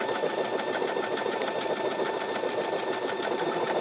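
A Baby Lock Soprano sewing and embroidery machine stitches a combined heart motif with a fast, even mechanical rattle that runs steadily at close range, with no talking.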